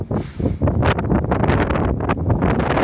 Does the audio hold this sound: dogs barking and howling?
no